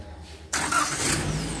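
A car engine running close by as the car reverses to make room for a new motorcycle delivery: near silence at first, then a sudden loud, steady broadband roar that holds to the end.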